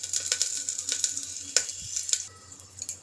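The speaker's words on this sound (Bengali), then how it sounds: "তেলটা গরম হয়ে গেছে, এখন আমি 2টো শুকনো লঙ্কা আর একটা তেজপাতা দিয়ে দেবো।" Dried red chillies and a bay leaf hit hot oil in a pan, giving off a quiet, scattered crackle of sharp pops and spits over a soft sizzle.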